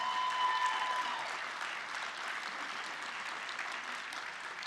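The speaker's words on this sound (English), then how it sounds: "Mesdames et messieurs, je vous invite à applaudir fort bien Madame Maria Josefina Monchea Carreira," An audience at a university Master's graduation ceremony for the Faculty of Law, Economics and Finance applauds prize winners with steady, even clapping that starts strong and settles slightly over several seconds.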